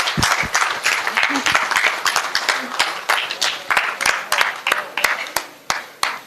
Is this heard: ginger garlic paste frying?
no